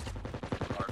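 Rapid automatic gunfire in a first-person shooter video game, a fast even rattle of shots packed into about a second, fairly loud.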